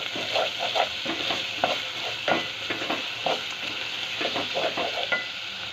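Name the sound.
ginger garlic green chili paste frying in oil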